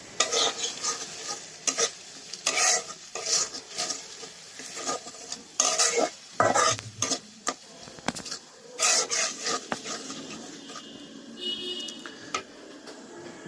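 Spice masala frying in a pan for a chicken and giant taro curry, stirred with repeated scraping strokes over a continuous close sizzle, the spoon rasping and clinking against the metal in uneven bursts.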